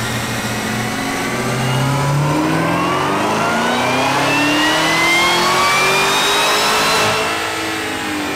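A 1000-horsepower Stage 4 sixth-generation Camaro ZL1 engine revs loud and close, its pitch climbing steadily through a long sustained pull with no one talking over it.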